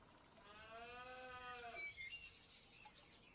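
A cow in the Farming Simulator 25 video game gives one drawn-out, fairly quiet moo against a soft background. The moo slides downward and ends around the midpoint, and no one speaks.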